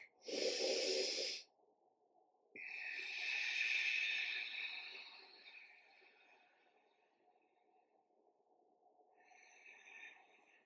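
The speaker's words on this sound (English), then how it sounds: "Make your breath work loud so that it cues your body." Loud yoga breathing during a vinyasa flow: a sharp forceful exhale, a pause, then a long audible breath that slowly fades, and a softer breath at the end, close and alone.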